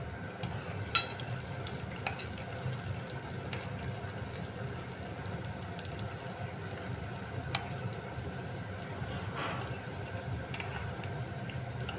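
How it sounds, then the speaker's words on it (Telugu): Onions and tempering spices frying in oil for green chilli rice, a steady low sizzle with occasional stirring clinks and pops, continuous and moderately quiet throughout. "ఆయిల్లో ఈ విధంగా సరిపడా ఆయిల్లో ఫ్రై చేసుకోవాలన్నమాట"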